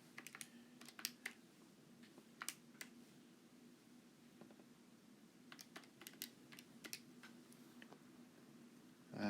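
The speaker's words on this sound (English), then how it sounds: "let me type it in" Keystrokes on a computer keyboard clatter in short irregular bursts over a low steady hum, with pauses between runs of typing and a soft thump at the end.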